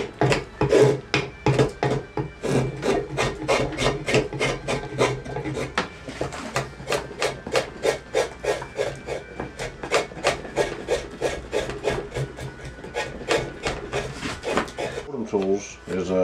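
Rapid rhythmic rasping strokes of sanding on a hand-carved wooden piece on Chincoteague Island, close and continuous with a brief pause midway and another near the end.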